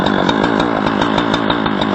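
Chainsaw running steadily near a dead pine in a yard, loud and close with a continuous buzzing drone and slight pulsing, no voices over it.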